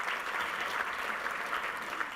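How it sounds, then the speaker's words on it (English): An audience at a Queensland tourism event claps in a steady burst of applause that fills the room, dense and even throughout with no break. "let's give him a round of applause."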